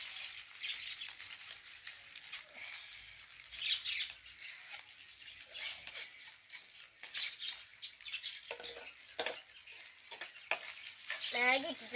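Maggi noodles go into a hot frying pan and are stirred, giving a soft sizzle with repeated scraping and clattering strokes close by, irregular and fairly quiet.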